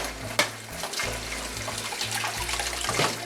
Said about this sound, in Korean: 표고버섯은 이렇게 빨리 씻어주는 게 좋아요